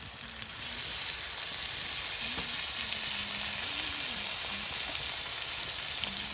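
Chopped tomato added to potatoes and cauliflower stalks frying in a pan: a steady, close sizzle with hiss holds throughout. A faint stir sounds now and then, with no talking.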